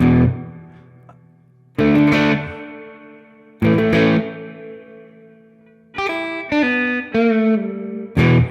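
A distorted electric guitar plays an uneven riff, ringing chords and choppy short stabs landing at irregular, unsteady intervals, loud and alone.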